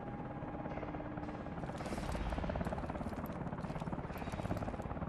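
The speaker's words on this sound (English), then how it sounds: "Push to the chopper!" A helicopter's rotor chops steadily in the background in Call of Duty: Advanced Warfare, a dense buzzing drone with faint voices mixed in.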